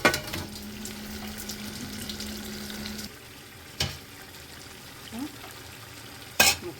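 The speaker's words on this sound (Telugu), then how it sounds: "ముక్కలు అయితే ఉడికిపోయాయి." Shrimp and prawn curry stirred in a pan, a soft sizzle and scraping of the spoon for a few seconds, then quieter with occasional clinks, close and low in level.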